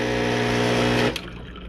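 Water flushes through the group head of a Mr. Coffee ECMP50 espresso machine during cleaning: a steady, close rush with a humming pump tone that cuts off abruptly near the end, leaving a faint residual hiss.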